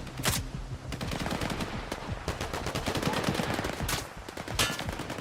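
Soldiers firing at the player in S.T.A.L.K.E.R. 2, with rapid bursts of automatic gunfire and sharp individual shots cracking close by in an uneven, sustained exchange.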